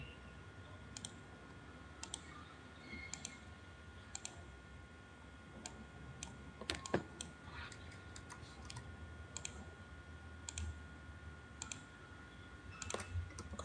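Computer keyboard typing, pressing the Ctrl+G group shortcut in ArchiCAD: sparse, light clicks and key taps spread through the stretch over a constant low hum, faint and close, with no talking.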